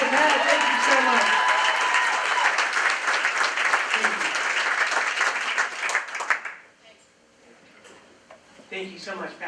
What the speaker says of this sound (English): Ladies and gentlemen, let's give a round of applause, please, to Pat.